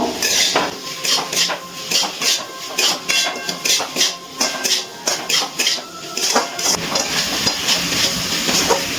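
Spring onion stalks are stirred in a cooking pan over a low gas flame, and a utensil scrapes and clatters against the metal in a rhythmic series of strokes, close and fairly loud.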